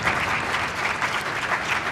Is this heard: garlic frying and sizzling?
no